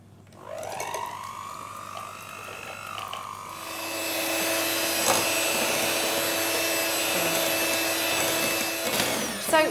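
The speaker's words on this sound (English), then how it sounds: "So now we beat this until it's a really nice and creamy consistency." An electric hand beater whips a sugar-free mocha cheesecake filling until creamy. After a quieter start, its motor whir rises about halfway through into a loud, steady drone that carries on to the end.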